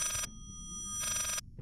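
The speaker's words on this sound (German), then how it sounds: "Telefon!" Telephone in the Layers of Fear video game ringing with two bright electronic trills separated by a pause, fairly quiet and alone with no talk.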